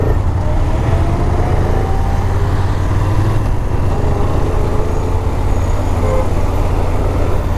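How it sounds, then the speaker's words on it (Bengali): Heavy road traffic in a jam near Siliguri, with a steady broadband rumble of cars, buses and trucks idling and creeping close by, continuous for the whole stretch with no speech. "এত ট্রাফিক, এত ট্রাফিক"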